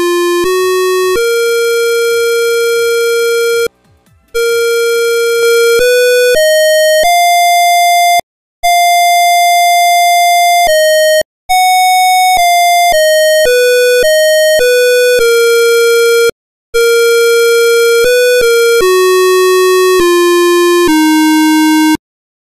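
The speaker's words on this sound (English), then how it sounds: "Let's listen to the digital conductor." A digital conductor for traditional Japanese shigin singing plays a string of steady electronic pitch tones, each held for one to several seconds with brief gaps, loud, clean and alone, stepping between different notes.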